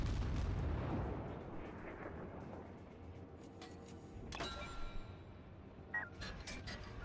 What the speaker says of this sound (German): jetzt schießt die Kongo auch wieder auf mich